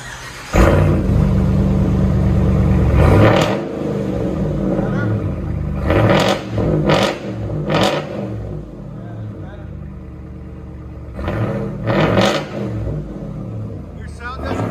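A Ram Power Wagon pickup with a 6.4-litre Hemi V8 and aftermarket exhaust revs in several sharp, loud bursts, settling between blips to a deep rumble, with voices talking nearby.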